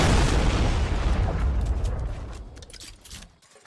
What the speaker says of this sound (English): Homing rocket right now.